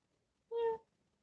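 A person imitates a cat's meow once, a short clear vocal mew against a quiet background.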